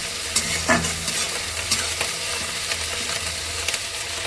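Onions fry in a pan and are stirred repeatedly, a continuous sizzle broken by regular scraping strokes of the spoon.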